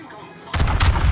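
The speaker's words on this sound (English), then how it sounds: "That was a very frustrating salvo." A battleship's main-gun salvo in World of Warships firing about halfway through, a sudden loud booming burst with rumbling follow-up blasts after a quieter lead-in.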